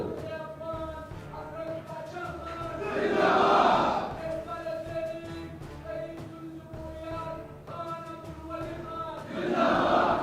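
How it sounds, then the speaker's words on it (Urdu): Crowd at a political rally shouting slogans in two loud, surging bursts, separated by stretches of a man's amplified speech. "اچھا میرے بھائی جو آپ نعرے لگا رہے ہو، آپ کا نعروں کا بہت شکریہ"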